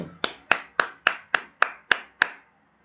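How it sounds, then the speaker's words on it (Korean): Eight sharp, evenly spaced claps ring out one after another, close and crisp with a short decay on each, at a political talk broadcast. "박수."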